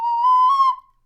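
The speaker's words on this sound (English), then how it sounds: "That was the sound of his nose growing." Cartoon sound effect of Pinocchio's wooden puppet nose growing: a single steady whistle-like tone held for about three-quarters of a second, swelling slightly before cutting off, clear and alone with no talk.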